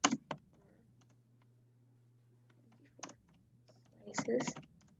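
Sparse clicks of typing on a computer keyboard, quiet and close, a few isolated taps and then a short cluster of keystrokes, with a low steady hum underneath.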